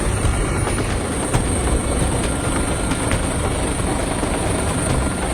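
A police rescue helicopter flies over flash floods after heavy rain in Oman, its steady rotor and engine roar filling the scene continuously at close range, with faint rhythmic beating throughout and no voices.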